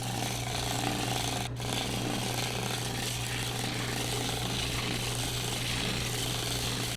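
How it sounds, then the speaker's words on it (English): A drill press turns a homemade drum sander built from a sanding pad, giving a steady, loud motor hum with a constant low tone and one brief sharp tick early on. "you want to make sure that your drill press is at its slowest speed"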